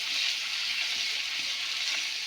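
Garlic paste frying in hot oil in a pan, a dense, even hiss that stays loud and unbroken, with no voices.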